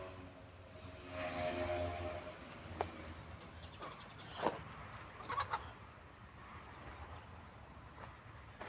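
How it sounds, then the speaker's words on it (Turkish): Chickens cluck faintly nearby in a quiet village setting, with a few short sharp calls standing out over low background noise. "Maalesef tavuk falan duyarsanız köydeyiz maalesef."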